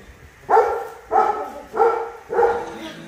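Dogs barking nearby in four evenly spaced, loud bursts, heard during an engine swap on a Mercedes camper van, with no voices over them.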